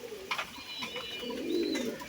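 Pigeons coo in a loft, a soft rolling call rising near the end over faint chirps and rustling, close and moderately loud.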